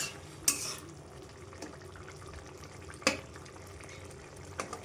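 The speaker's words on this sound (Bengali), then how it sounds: "এবার ঢাকাটা খুলে দেখব।" Metal lid lifted off a pot of prawn and potato curry (chingri aloo kosha), with a sharp clank near the start, another bright clink around three seconds, and a soft clatter at the end over a low simmering background.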